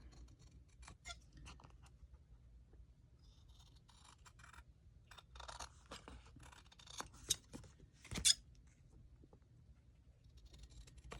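Scissors snip and trim paper for a handmade CD envelope, a series of soft, close cutting strokes and light rustles, with one sharper snip standing out late, and no talking.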